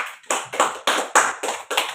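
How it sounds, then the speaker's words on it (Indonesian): A classroom of students claps in unison for each group, sharp loud close claps in a steady rhythm of about seven beats, with no talk. "Baik, tepuk tangan dulu untuk setiap kelompok."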